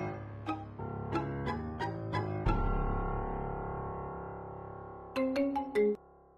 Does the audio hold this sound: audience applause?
no